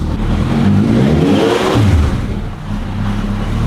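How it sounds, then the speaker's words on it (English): A custom formula race car engine, rebuilt after a crash, fires up in first gear and revs, a loud, close, rising and falling roar with whirring drivetrain tones and no voices over it. "All right, let's fire it up in first gear."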